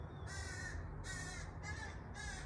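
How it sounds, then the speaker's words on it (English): A young crow caws repeatedly in a garden, four harsh calls in an even rhythm at moderate distance over a steady low background hum. "Can you hear the baby crow? It's upset about something."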